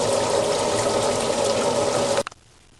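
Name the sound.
water running from supply line to GE washer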